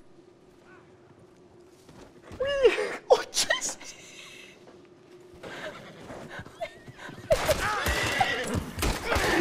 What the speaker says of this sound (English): We got a horse in Red Dead that just wants to jump, and jump he does.